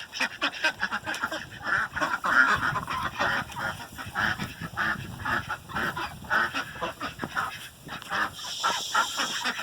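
A flock of ducks and geese honk and quack repeatedly in overlapping bursts at night in winter, being put to bed, fairly close, with no talking.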